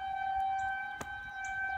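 Outdoor tornado warning sirens wailing, a steady tone from a civil defense siren sounding across open air with a brief bump of nearby noise partway through.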